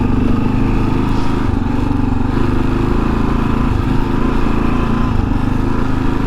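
A Kawasaki KLR650 single-cylinder motorcycle engine while riding, a loud, steady, close drone with a constant low throb and rushing wind, no clear revving changes.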